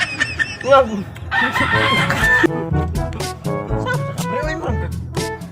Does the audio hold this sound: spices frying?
no